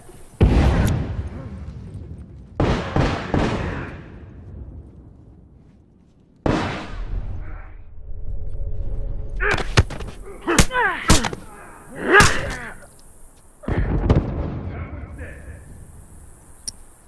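A set bomb goes off in The Last of Us video game amid several booming blasts and bursts of gunfire spread through the clip, loud and separated by quieter gaps, with voices heard talking.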